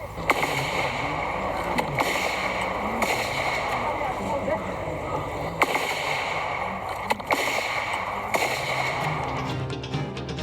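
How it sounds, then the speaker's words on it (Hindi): Gunfire exchanged between security forces and Maoists after an IED blast in Chhattisgarh, sharp cracking shots at irregular intervals over a dense, loud continuous noise bed, with a voice briefly present. "फायरिंग इस वीडियो में साफ देखी सुनी जा सकती है।"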